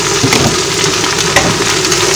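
Carrots, green beans and sweet corn frying over low heat in a pan with a little oil for fried rice, giving a continuous loud, even sizzle with faint crackles and no talking.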